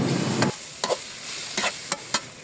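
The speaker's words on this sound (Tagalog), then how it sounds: "isinunod ko na ang cabbage at nilagyan ko na lang din ng soy sauce" Cabbage and fried egg with soy sauce and pepper sautéing in a pan, giving a loud steady sizzle broken by a few quick scrapes and stirring clatters, close up, with no talking.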